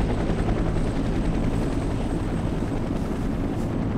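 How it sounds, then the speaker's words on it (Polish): A helicopter flies in the battle royale game H1Z1 King of the Kill, its rotor thumping in a steady, loud, continuous drone with no voices. "Dobra, te helikoptery wszystkie tutaj też wyrzucają resztę."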